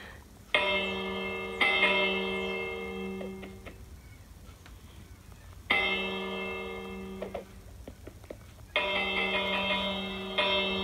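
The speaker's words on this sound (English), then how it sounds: "You're spamming that bell." In the Minecraft video game, a bell is struck rapidly and repeatedly, producing three bursts of bright, ringing chimes that decay between groups, loud and up close with no talking.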